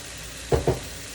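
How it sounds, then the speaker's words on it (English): A pan of sloppy joe mixture seasoned with chili powder is stirred in two short scraping strokes, close and fairly quiet, with no talking. "I'm going to give all this a little stir while I'm doing that"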